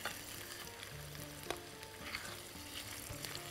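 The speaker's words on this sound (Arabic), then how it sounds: "احنا كده قلبنا البصله بتاعتنا في السمنه" Onion frying in ghee while being stirred, a steady close sizzle with occasional scraping stir sounds and no talk.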